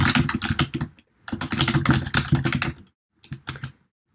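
Keys clatter on a computer keyboard while writing code in the Visual Studio Code editor, coming in quick close bursts of keystrokes with brief pauses between runs, no voices present.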